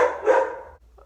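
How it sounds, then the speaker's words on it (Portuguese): A dog lets out one loud, close bark indoors, followed by a short faint yelp, with no talking. "agora, o cachorro quer participar do vídeo"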